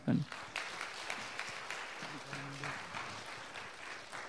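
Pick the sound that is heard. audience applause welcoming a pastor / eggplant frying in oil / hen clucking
audience applause welcoming a pastor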